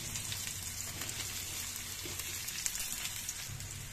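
Onions sizzle steadily in hot oil in a kadhai for a dal tadka, a soft continuous crackle with no voices.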